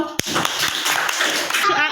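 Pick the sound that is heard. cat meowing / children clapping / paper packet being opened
children clapping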